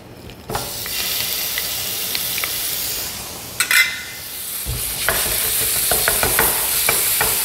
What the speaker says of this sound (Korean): 자, 계속 볶아주세요.